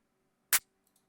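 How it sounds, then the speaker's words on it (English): A single distorted clap sample from the Experimental Sound Kit Volume 2, one sharp, bright, noisy hit lasting a fraction of a second, followed by faint tiny ticks in near silence. "The clap is just a regular clap. I added sort of like a more distorted,"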